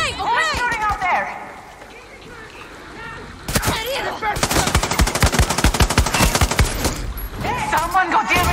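Rapid machine-gun bursts and scattered gunshots in the video game Far Cry 6, loud and dense for several seconds in the middle, with people talking before and after the shooting.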